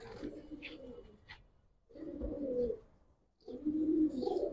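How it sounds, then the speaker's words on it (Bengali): Giribaz pigeons coo up close in three soft, low bursts with short pauses between them, plus a few faint chirps. "মাশাআল্লাহ অনেক সুন্দর কবুতর"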